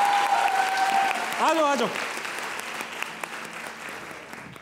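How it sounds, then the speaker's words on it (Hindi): Studio audience at a Pakistani comedy talk show breaks into loud, sustained applause that fills the room, with a short spoken call over it near the start before the clapping tapers slightly. "तालियां होनी चाहिए।"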